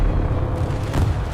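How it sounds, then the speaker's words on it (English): Artillery shells explode near a WWI trench as a muffled, heavy low rumble of booms, dull and continuous over a short stretch rather than sharp distinct blasts. "The bombardment is getting closer now. Every explosion feels like it could collapse the trench."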